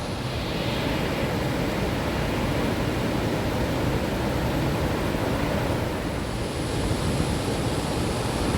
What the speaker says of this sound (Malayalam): മലങ്കര ഡാമിൻ്റെ 6 ഷട്ടറിൽ 5 തുറന്നു വിട്ടേക്കോട്ടോ. നല്ല ഒഴുക്കാണ്